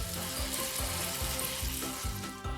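Meatballs coated in cheese fry in a pan over low heat, giving a steady close sizzle and crackle with faint periodic scraping or stirring strokes.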